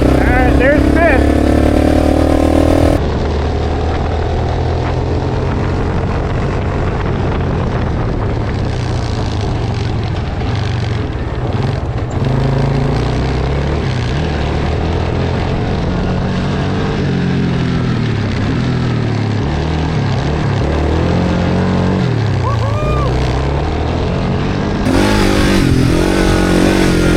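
A cheap used 4x4 ATV engine running in fifth gear, a loud, steady droning roar with shifting pitch over the whole stretch, recorded close with wind buffeting.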